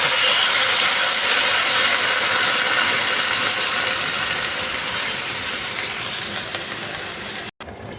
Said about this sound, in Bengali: আমার সবজিগুলো মোটামুটি ভাজা হয়ে গেছে। এইবার জল দিয়ে দিচ্ছি।